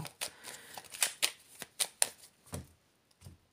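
Aries oracle cards being shuffled up close, with a string of quick riffling bursts and taps, then a brief pause and a few last soft slaps.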